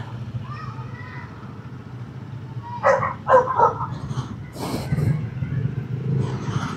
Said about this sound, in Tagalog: Aso lang yan eh.